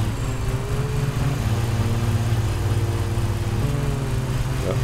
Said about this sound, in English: See what happens when you overload the motor, your mowing deck kind of slows down.